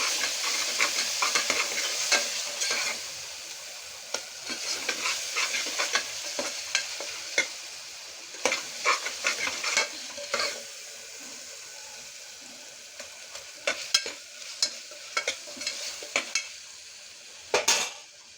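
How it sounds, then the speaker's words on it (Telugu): A spatula stirs mutton masala through mutton in a hot pan for a spicy gongura mutton, giving repeated scraping strokes and clinks over a low continuous sizzle, close and rhythmic. "కొంచెం మటన్ మసాలా, కలుపుకుందాం."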